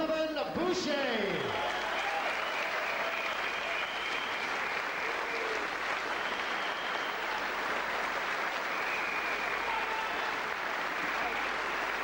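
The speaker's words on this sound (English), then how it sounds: "A big hand from the sporting Nottingham crowd." A boxing crowd in Nottingham applauds steadily after a Commonwealth welterweight title fight, a broad, even roar of clapping heard from across the arena, with a commentator's voice briefly over the opening.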